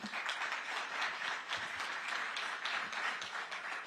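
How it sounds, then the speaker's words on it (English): Applause from an audience at a Polish-American summit panel event, an even, sustained round of many people clapping with a faint high tone running through part of it. "One more round of applause."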